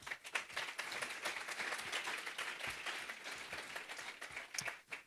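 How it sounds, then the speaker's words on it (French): Audience applause at a French conference session on retail media, a dense, steady wash of many hands clapping throughout, moderately loud, with no voices over it. "est-ce qu'on peut applaudir tous les contributeurs de ces sujets Retail Media?"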